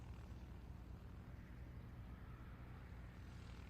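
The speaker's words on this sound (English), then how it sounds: "I do hear a jet." A jet aircraft engine near the runway at a high-altitude STOL practice field in Pinedale, Wyoming, producing a steady, broad roar that holds level throughout with no one talking.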